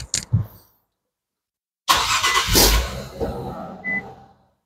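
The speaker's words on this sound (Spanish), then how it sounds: "Vamos a encender de nuevo el vehículo" A 2018 Infiniti Q50 cranking and firing up when cold, after a short clatter and a pause of silence, then a loud close surge of the engine revving up that settles toward idle.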